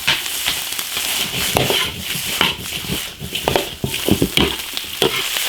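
Eel hits a hot wok with cured pork and seasonings, frying with a constant near sizzle as a spatula scrapes and clatters in irregular bursts.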